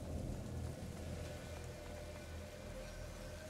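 Steady rain pours down in the video game A Plague Tale: Innocence, a dense continuous hiss with a low rumbling undertone, loud and close throughout, with no voices.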